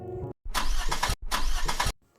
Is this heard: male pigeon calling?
no